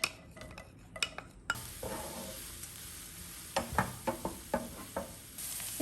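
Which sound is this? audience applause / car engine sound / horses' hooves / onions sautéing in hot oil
onions sautéing in hot oil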